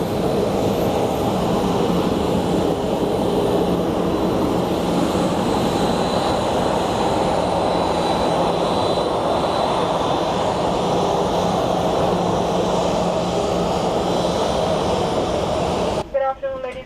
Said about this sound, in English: again we get to go on the runway